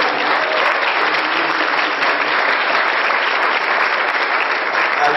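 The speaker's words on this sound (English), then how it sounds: "I just wanted to clap for him as he's not here." A church congregation bursts into loud, dense applause that holds steady and unbroken for several seconds.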